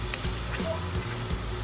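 Onions fry in a pan as masala powder is stirred in, giving a steady close sizzle with a few soft scraping stir strokes.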